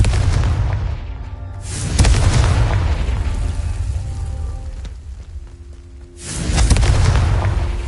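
In Hogwarts Legacy, the Confringo blasting spell sets off loud booming explosions, one at about two seconds and another near six and a half seconds, each leaving a long rumbling roar that slowly fades.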